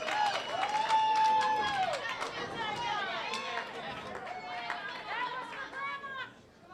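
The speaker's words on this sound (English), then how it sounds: "That was for Grandma, the cheer from the crowd." Spectators at an intercollegiate team championship match cheer and call out, a lively crowd roar with shouts and some clapping that gradually fades, voices chattering throughout.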